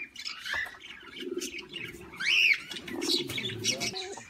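Birds chirp and call close by, with soft low cooing from pigeons running beneath the brighter tweets.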